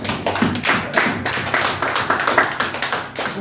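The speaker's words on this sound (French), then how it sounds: "On acclame le Seigneur s'il vous plaît." A church congregation applauds the Lord with loud, sustained clapping, many hands together in a continuous, rhythmic wash close by, with no speech over it.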